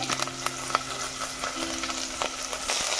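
Curry leaves and small shallots frying in oil crackle steadily while being stirred, soft intermittent scrapes and sizzle pops over a low, even hiss, fairly quiet and close.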